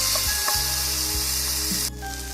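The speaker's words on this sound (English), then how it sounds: "We're going to let that saute for 2 minutes." Onion sautéing in olive oil for a ground beef stew, a continuous hiss of sizzling with a couple of low thumps, the hiss dropping slightly near the end.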